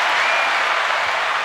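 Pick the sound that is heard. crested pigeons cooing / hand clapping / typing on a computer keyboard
hand clapping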